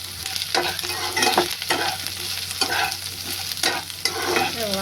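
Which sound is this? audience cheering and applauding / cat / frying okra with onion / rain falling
frying okra with onion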